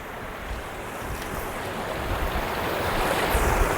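A small mini waterfall spills along a stream, giving a continuous broad rushing roar that builds slightly in loudness with no voices over it.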